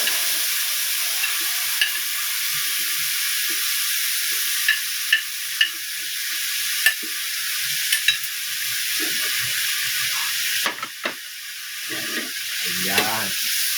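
Onion, garlic and liver frying in a pan, a steady close hiss of sizzling with occasional clicks and scrapes of stirring, no voices.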